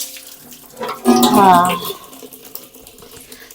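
Dirty stored water thrown out and splashing down for about a second, loud and close, while someone talks over it and afterward.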